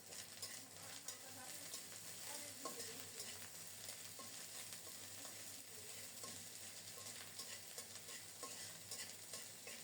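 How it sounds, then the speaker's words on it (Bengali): A lentil filling for radhaballavi fries with ginger and green chili, steady soft sizzling broken by frequent spatula stirs and scrapes in a pan, fairly quiet overall. "পুরনের সাথে আদা কাঁচামরিচ কিছুক্ষণ ভেজে নিয়ে এখন দিচ্ছি অল্প একটু চিনি"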